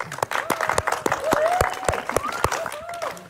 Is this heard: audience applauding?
yes